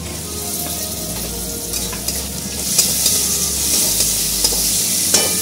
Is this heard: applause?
no